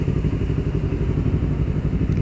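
A Yamaha R25 motorcycle on slick tires rumbles steadily while being ridden, a loud, close, continuous engine drone with no talking over it.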